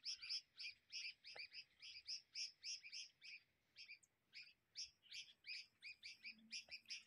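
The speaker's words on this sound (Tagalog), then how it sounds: "O, marinig yung ibon," Small sparrow-like birds chirp outdoors in quick, faint, high twittering bursts that keep going with brief gaps, and there is no talking.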